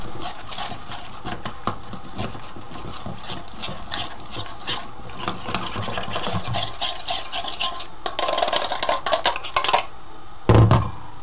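Flour being stirred into water and cream in a bowl while preparing tomato soup, giving steady scraping and clinking of a utensil against the bowl throughout, close and moderately loud, with a few sharper knocks near the end.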